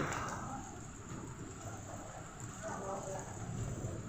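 Heavy rain falls steadily on a flooded main road where ducks paddle in the rainwater, a dense continuous hiss throughout at fairly even loudness.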